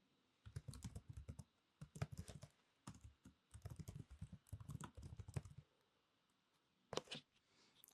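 Someone types quickly on a computer keyboard, close and clear, in rapid clattering bursts separated by short pauses, with a final flurry of keystrokes near the end and no talking.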